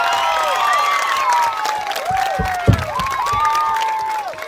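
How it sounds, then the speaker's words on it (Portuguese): An audience at a municipal school celebration applauding the Escola de Ladeira Massagens, a steady wash of clapping and cheering laced with shrill, sweeping whistles. "pedi às senhoras e aos senhores uma salva de palmas para a Escola de Ladeira Massagens"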